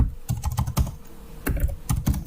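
Rapid, close keyboard clatter as a Linux terminal command is typed into Kali, two bursts of keystrokes split by a brief pause, loud and clear with no speech.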